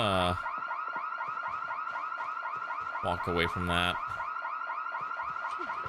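A car alarm blares in the game Project Zomboid, a loud rapid warbling tone cycling continuously with brief shifts in pattern, while someone speaks briefly over it.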